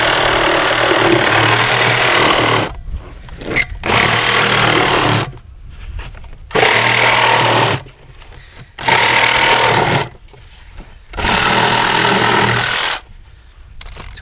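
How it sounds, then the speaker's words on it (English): A 2-inch steel tube being cut to length for a flagpole, with loud harsh cutting noise in about five sustained bursts separated by short pauses. "So I'm going to cut this beam to where I want it to be"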